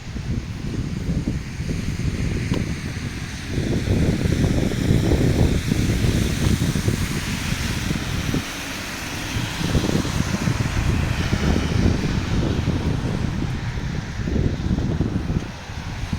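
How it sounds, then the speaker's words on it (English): Strong wind buffets an unprotected microphone outdoors on a walking route lined with olive trees and benches in Medjugorje, a steady low roar with gusts swelling and easing throughout, no voices. "Oh, it's a strong wind. Or a little wind, you hear it."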